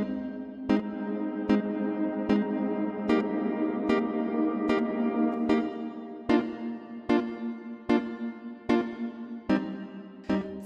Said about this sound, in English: I then proceed to add a reverb on it to sound a bit bigger.